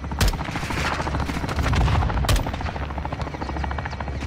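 An attack helicopter makes a gun run in Modern Warfare 2, its thudding rotor steady and close while rapid cannon bursts crack out over the top and gunfire keeps rattling on throughout.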